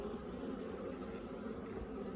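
Honey bees hum faintly around a beehive frame, a soft continuous drone with no talk.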